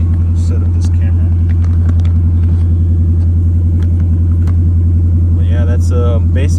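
A boosted car engine holds on a two-step launch control at full throttle, a loud, steady, low rumbling drone with rapid popping pulses, while someone talks over it.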